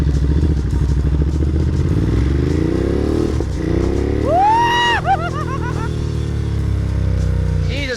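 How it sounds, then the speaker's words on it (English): A Ducati Monster 937 motorcycle with 111 horsepower runs in sports mode on a riding academy course, engine droning loud and near, pitch climbing and falling through gear changes with a sharp rising whine midway. "I'm starting with the Monster 937 with its 111 horsepower at only 188 kilos wet."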